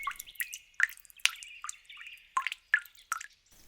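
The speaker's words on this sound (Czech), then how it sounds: "pokapal nemocný strom pár kapkami ze svého lektvaru" Potion falls onto a sick tree as a series of bright, separate drips, close and clear against silence, arriving unevenly about ten times.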